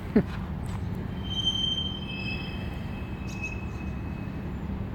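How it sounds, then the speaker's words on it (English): A passing train's wheels squeal in long, high, thin tones over a steady low rumble of rolling cars, heard fairly close and continuing throughout, with a bird chirp near the start. "Y'all hear that motherfucking train?"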